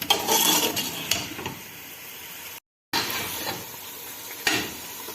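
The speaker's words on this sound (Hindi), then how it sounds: "अब तमाम चिकन मसालों के साथ 1 से 2 मिनट तक भून लें ताकि इसका अच्छी तरह फ्लेवर चिकन में आ जाए" Chicken fries with ground spices and coriander in a pan for a chicken and chickpea stew, giving a quiet sizzle with occasional rubbing, scraping stirs and a brief dropout midway.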